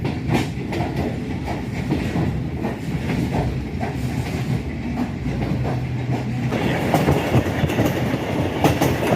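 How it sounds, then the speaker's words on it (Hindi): A train rumbles steadily over a railway bridge at Murree Road, Rawalpindi, with rhythmic clattering wheels and a hollow, continuous roar, growing slightly louder toward the end. "मरी रोड से इस टाइम ट्रेन गुजर रही है।"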